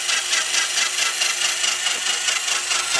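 A Q88E line boring machine drives a carbide cutter through a bored hole, producing a loud, continuous harsh scraping whine with a steady pulsing rhythm.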